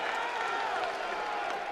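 A large crowd at the UFC 300 press conference cheers and applauds steadily, a dense continuous roar of clapping and voices filling the space.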